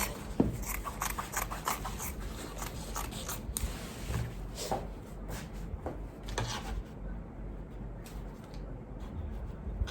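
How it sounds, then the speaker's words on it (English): Scissors cutting through dress fabric, a series of close, crisp snips and rustles coming in uneven bursts, alone without talk. "I'm going to cut this now."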